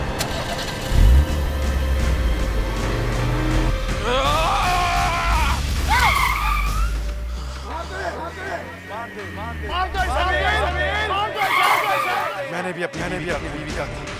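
Car engine in a horror-show scene cranks and catches, then a low steady drone runs beneath tense dialogue and music as the car pulls away, loud and close throughout.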